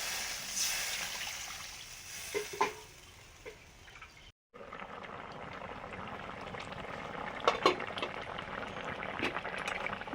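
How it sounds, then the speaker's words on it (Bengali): A pot of fish curry with potatoes on the boil, a soft continuous bubbling and simmer close by with small pops and drips, briefly cut off partway, no voices. "ঝাল ফুটে গেছে, আলু প্রায় সেদ্ধ হয়ে এসছে"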